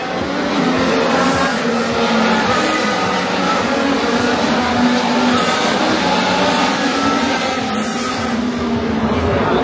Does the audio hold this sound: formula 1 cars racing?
yes